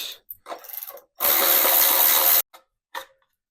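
Ratchet wrench loosening bolts on a fried air compressor motor, quick clicking ratchet strokes followed by a longer loud burst of continuous ratcheting, then a couple of short clicks, close and alone.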